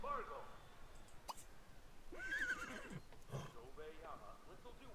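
Horse in The Sims 3 Pets giving a couple of clear neighs and whinnies, with a game voice and chatter heard alongside.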